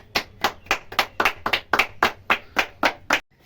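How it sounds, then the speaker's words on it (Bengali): Three people clap loudly together, about eleven sharp, close claps in a steady, quick rhythm, ending abruptly. "এটার জন্য একটা 3 জনের জোরে হাততালি।"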